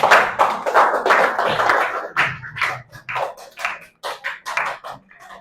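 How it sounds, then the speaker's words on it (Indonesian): Classroom applause for a student group in a fiqh lesson on zakat fitrah, uneven bursts of clapping from a small group of pupils, close and loud, starting and stopping in irregular clusters. "Berikan tepuk tangan kepada kelompok 1."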